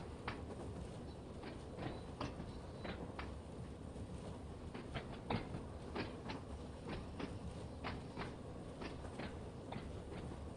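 A train easing slowly into sidings in the Train Sim World 2 simulator, with a steady low rolling rumble and regular clickety-clack wheel beats over rail joints, quiet and continuous.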